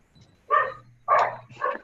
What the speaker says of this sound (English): I was just trying to mute the dog in my background.